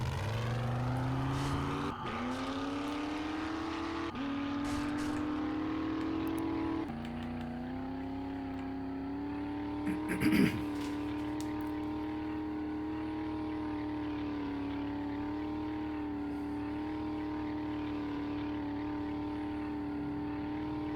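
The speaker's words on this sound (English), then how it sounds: "We could fly the chopper, but I kind of like driving the truck." A truck driven in a video game, its engine droning steadily with pitch steps as it shifts through gears and revs, with a brief clunk midway, continuous and moderately quiet.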